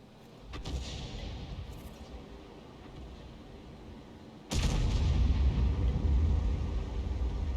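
Tank cannon fire in a tank video game: a sharp blast early on, then a heavy booming shot that opens into a sustained loud rumble, with no talking.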